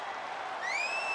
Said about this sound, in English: The crowd's still with him here, even after all these years.